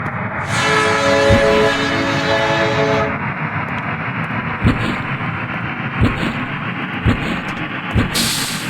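A loud train horn in the video game Amok Runner blasts for a few seconds over rumbling rail noise, then wheels clack rhythmically along the track at steady intervals.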